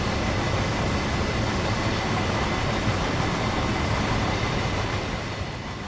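A BR 185 electric locomotive hauls a heavy freight train in Train Sim World 6, making a loud, steady rumble of wheels and rail noise that rolls on without a break, with no talk.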